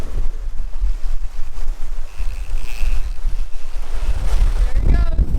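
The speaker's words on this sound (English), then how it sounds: "So the wind keeps going up." Strong wind buffets the microphone with a heavy low roar, and waves wash around a sailing catamaran in the Bahamas. The gusts are loud and continuous, with a swell of water and noise near the end.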